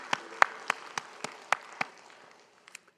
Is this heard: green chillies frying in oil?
no